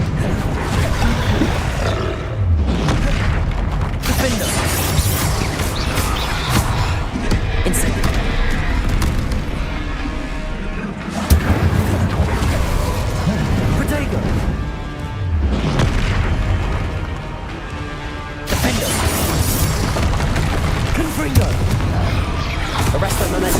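Depulso spell cast in the Hogwarts Legacy video game, a forceful magical blast buried in a dense, continuous battle mix of booms, crashes and creature roars, with voices heard throughout.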